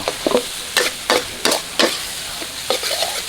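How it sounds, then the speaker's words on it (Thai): Ginger is stir-fried with chilli paste in a hot pan: a spatula scrapes in sharp, repeated strokes about every half second over a soft sizzle, close up and with no talking. "แล้วก็ขิงลงไปผัดต่อ"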